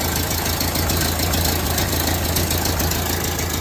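A Ford Model A pickup engine runs at a steady idle, loud and close, with an even low chugging rhythm throughout and no talking over it.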